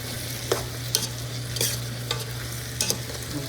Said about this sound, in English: we're gonna give that a nice little stir